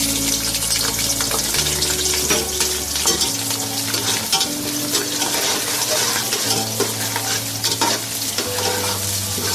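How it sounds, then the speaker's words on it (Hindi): Sliced onions sizzle steadily in about half a cup of hot oil in a deep pot, making a dense, continuous frying hiss with a low hum beneath it and no voices. "सबसे पहले मैंने आधी प्याली तेल डाला है भगोने में और उसमें तेल मेरा हो गया है। उसमें मैं प्याज डाल रही हूँ।"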